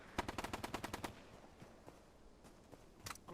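M240 machine gun firing in the video game Bellum: a rapid burst of about ten sharp shots in the first second, followed by scattered, fainter distant gunfire and a closer burst near the end.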